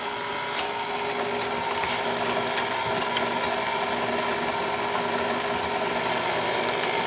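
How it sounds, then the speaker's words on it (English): An electric stand mixer beats cake batter with marzipan and eggs, giving a steady, loud mechanical whir with rattling, gear-like clatter that runs continuously without talk. "We're going to turn the mixer off."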